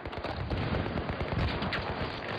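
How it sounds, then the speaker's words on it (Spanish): Rapid gunfire in a multiplayer military shooter video game, dense overlapping bursts of automatic shots sustained throughout, loud and continuous with no talk over it. "¡Hostia, que nos disparan!"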